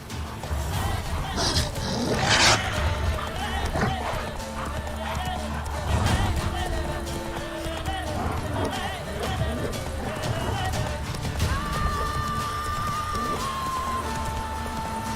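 Roach, a horse in the video game The Witcher 3: Wild Hunt, gallops with a steady rapid clip-clop of hooves, continuous and close, mixed with game ambience and other sounds throughout.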